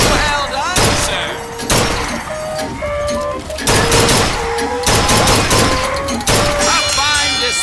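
Gunfire rings out at a carnival shooting gallery in BioShock Infinite, several heavy, sharp bursts at irregular intervals, loud and close, mixed with clanking target hits and bright chimes, with a voice talking between shots.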